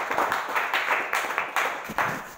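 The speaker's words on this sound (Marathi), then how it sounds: "एक जोरदार टाळी वाजवा" Brief burst of audience clapping in a few rhythmic pulses, moderately loud and fairly close, lasting only a couple of seconds.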